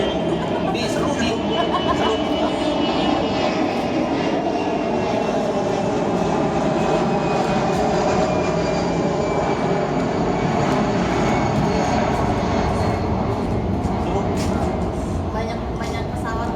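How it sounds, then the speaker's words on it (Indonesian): Airplanes pass overhead with a loud, continuous engine roar and rumble that fills the whole stretch, with people's voices mixed in beneath it. "Banyak pesawat lewat"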